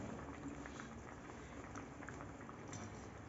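Mung dal with mixed vegetables boiling in a covered pot, a soft, steady bubbling and light pattering simmer, faint and continuous with no talk.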